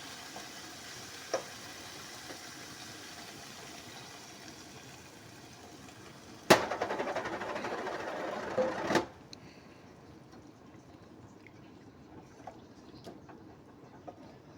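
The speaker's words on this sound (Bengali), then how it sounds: "আমি এর ভিতরে এখন নারকেলের দুধটাকে দিয়ে দিব" Coconut milk poured into a pan of half-boiled potatoes frying with spices for a snakehead fish curry: a low steady sizzle, then a loud hissing surge lasting about two seconds before settling back to a quiet simmer.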